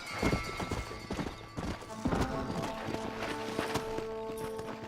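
Horse hooves clopping in Red Dead Redemption: a brisk run of close, loud hoofbeats in quick irregular rhythm, joined by a sustained tonal game sound and music, with no speech.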